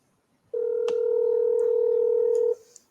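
A steady telephone tone sounds for about two seconds on a call being placed, loud and continuous, then cuts off, with faint background noise around it.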